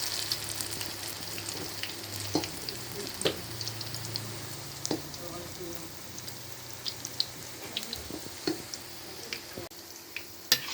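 Banana blossom fritters fry in a shallow amount of oil with a soft, steady sizzle, punctuated by occasional pops and crackles, close and fairly quiet.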